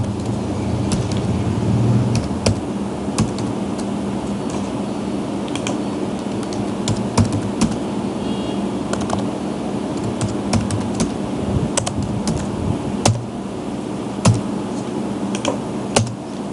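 Steady computer keyboard typing as code is entered for an SAP ABAP module pool screen, keys clicking in irregular bursts over a constant low hum, close and moderately loud.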